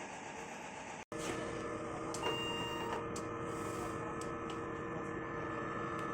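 A DTF printer runs continuously with a steady mechanical whir and hum, a brief cut near the start, and light ticking of moving parts; no talking.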